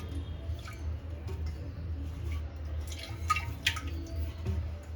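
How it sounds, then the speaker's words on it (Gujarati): Rock-salt water poured around the outside of a clay water pot, heard as faint, scattered drips and small splashes over a low steady background hum, with no talking. "આ સિંધવવાળું પાણી છે આપણે ગોળામાં ફરતે આપણે રેડી દઈશું"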